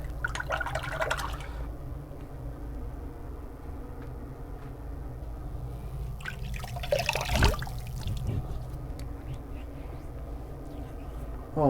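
Water trickles and drips as a Thiers Issard straight razor is rinsed, quiet and close. A louder splashing burst comes midway, set between softer dribbles, and a faint voice is heard now and then.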